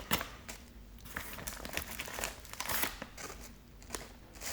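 Close crinkling and rustling of a plastic snack packet being handled while packing a handbag, irregular bursts of crackle running throughout.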